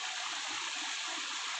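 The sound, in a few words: flowing river water, Watariri River, Papua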